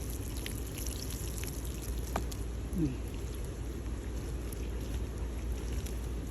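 Water pours steadily into coarse peat and fiber growing media, a constant soft hiss and splash that holds evenly throughout with no break.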